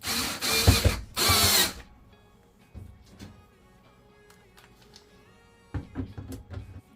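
A power drill drives exterior screws into a clothes dryer during reassembly, with two loud, close bursts of whirring near the start, then quieter clicks and handling noises, and a softer rattle of activity toward the end.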